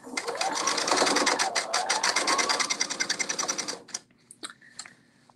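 A sewing machine runs a steady stitching burst along a kimono's back neck seam at a 3.0 stitch length, then slows into a few separate clicks and stops, close and clear.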